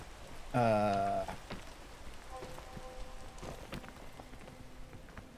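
Steady rain hisses softly throughout in the mountain-climbing video game Peak, with a brief loud horn-like tone near the start and faint tonal game sounds in the background.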